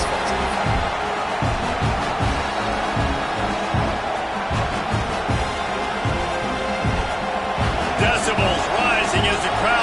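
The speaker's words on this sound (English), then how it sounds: "Decibels rising as the crowd gets behind this defense on third down." A crowd at an amateur AKFL football game roars behind the defense on third down, a loud sustained cheer with rhythmic thumping and stomping throughout.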